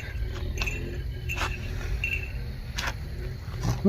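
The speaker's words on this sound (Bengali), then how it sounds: "কুকুর চিল্লাইছে" Dogs bark faintly in the distance outdoors beside a rough road, a few scattered calls rising over a steady wash of crickets and insects, with no voices nearby.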